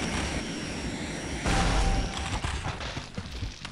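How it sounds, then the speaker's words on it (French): Jet engine drone in the Daikatana video game, a constant broad roaring hum that swells louder midway and keeps going steadily. "C'est bien le bruit du réacteur, il continue après qu'il soit mort."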